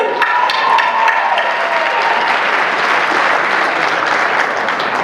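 A dinner crowd at a Nevada Democratic Party event gives Ms. Booker a round of applause, dense clapping with a brief cheer at the start, staying loud and steady for about five seconds.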